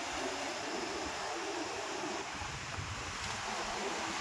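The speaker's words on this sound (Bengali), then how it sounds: "সেদিকে দক্ষিণ দিকে আবার ঢেউ চলে, সেই যে ঢেউ চলছে।" Sea waves rolling in on the Bay of Bengal during a depression, a continuous broad wash of surf with wind buffeting the microphone, steady and fairly distant, with no voices.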